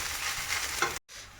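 Pulao frying and being stirred in a pan, a steady close sizzle with scraping stir strokes, cut by a brief silence before the sizzling resumes.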